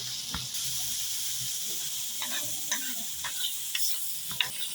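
Meat and onions frying and being stirred in a large pot for Uzbek plov, a steady loud sizzle with scattered scraping clicks of a utensil against the metal, no voices.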